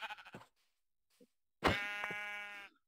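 A Minecraft sheep bleats once, a loud wavering electronic baa that stands alone after a few brief game noises.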